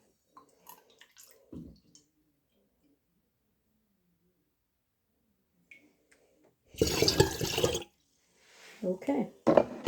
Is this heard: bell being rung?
no